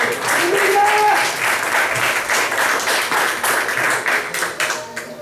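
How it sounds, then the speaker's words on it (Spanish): A church congregation applauds during a Spanish-language worship service, a dense steady wash of clapping filling the room for several seconds, with voices mixed into the crowd noise. "Dale un aplauso al Señor."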